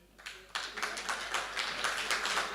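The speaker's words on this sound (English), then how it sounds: "a round of applause" An audience at a World Theatre Day event breaks into applause. The clapping starts abruptly after a brief pause and continues as a full, even patter of many hands close by.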